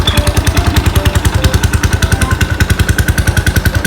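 A motorcycle engine idles with a fast, even, thumping exhaust pulse, loud and close, running steadily without any voices.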